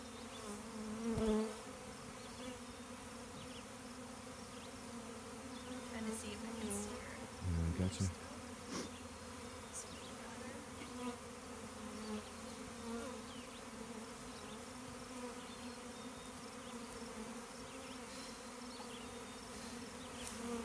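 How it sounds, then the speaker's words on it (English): A swarm of bees being relocated buzzes steadily and close all around, a continuous droning hum with individual insects flying past now and then, plus a few brief handling knocks. "the air is filled with bees. They are just buzzing around my ears and head and all over us"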